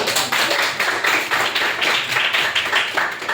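Children in a classroom clap their hands together in a steady, fairly loud burst of many overlapping claps, with no talking over it.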